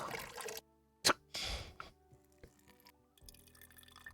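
Water drips and splashes in short bursts, a few distinct drops and trickles followed by quieter ringing, bubbling liquid sounds in an otherwise quiet space.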